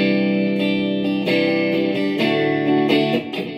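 Bright electric guitar strums chords in a clean, ringing tone with a slight shimmer through a Line 6 POD XT Live modeler, several strokes in a loose rhythm, close and fairly loud.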